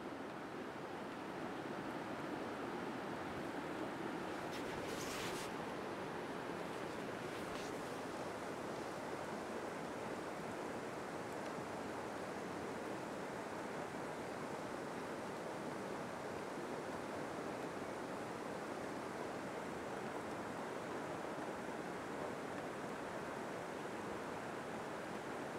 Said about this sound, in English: the sound of the river and the rain.